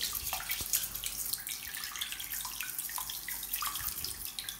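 A tap runs softly as water wets a brush used to clean a razor, a quiet continuous trickle with a few drips and small knocks.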